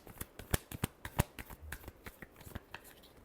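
Tarot cards shuffled by hand close up, a quick run of crisp, snapping riffles and taps with short pauses between bursts.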